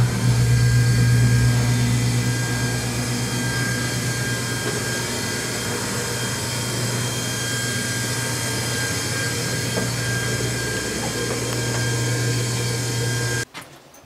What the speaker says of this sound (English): Call the elevator again.